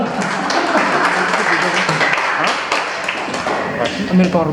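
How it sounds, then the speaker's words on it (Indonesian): A group of children receives a round of applause, with many hands clapping steadily and fairly loudly while voices talk over the clapping. "Kita beri aplaus untuk anak semua"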